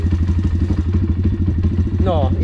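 A motorcycle engine idles steadily in neutral, a low, even throbbing that runs throughout, close and loud, with a faint rising whine near the end.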